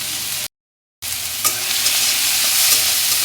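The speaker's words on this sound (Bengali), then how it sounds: "এবারে ভালো করে এটাকে একটু ভেজে নিতে হবে।" Vegetables with turmeric and salt fry and get stirred in a pan, giving a loud, close sizzle with scraping stirs, broken by a brief dropout of total silence.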